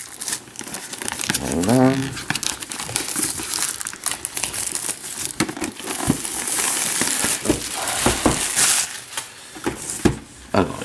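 Plastic wrapping on an X-Wing game box crinkles and tears in a run of sharp, close crackling bursts, with a brief spoken word partway through.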